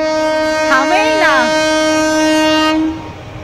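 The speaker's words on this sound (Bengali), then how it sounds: "ওই দেখো ট্রেন যাচ্ছে। কতক্ষণ ধরে হর্ন দিতে দিতে ফাইনালি আসবো।" A passing train sounds a long, loud horn with steady tones and a brief pitch-bending wail, heard close up outside a gate by a road, before the blast stops abruptly.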